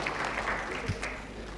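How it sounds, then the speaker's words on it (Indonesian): Brief burst of applause from a church congregation, dense clapping with a faint voice mixed in underneath. "beri tepuk tangan boleh"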